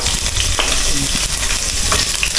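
Chopped onion goes into a hot frying pan for an arroz caldo and sizzles loudly and continuously, with scraping stirs and small crackles scattered through the close, busy frying.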